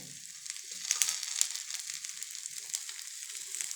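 Food roasting in ghee or oil on a hot pan, a continuous bright crackling sizzle with small popping bursts, close and alone without talk.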